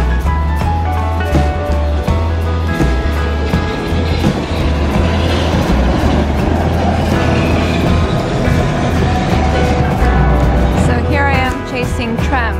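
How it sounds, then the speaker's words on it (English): A tram rolls by in a Latvian city, a loud steady rumble with a low hum, rattling and rising tonal whine running continuously, heard from nearby amid street traffic noise. "So this is the first tram, the first electrified city in the Baltics."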